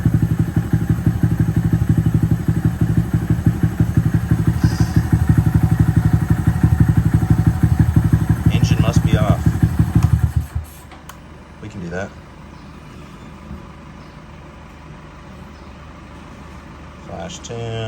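A Honda Monkey motorcycle with a Yoshimura exhaust and aftermarket intake idles loud and close with a rapid, pulsing exhaust beat, then shuts off abruptly, leaving quieter clicks and handling noises.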